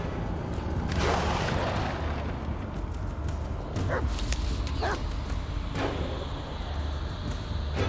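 Dog in the horror video game Blair Witch, giving short barks and yips amid a low rumbling ambience and scattered game sounds, fairly close, with no talking.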